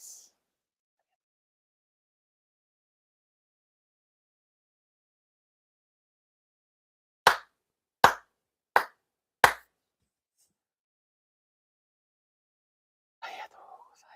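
Four sincere hand claps sound at a Shinto ceremony in Chula Vista, crisp and evenly spaced amid long silence, with a faint voice murmuring briefly afterward.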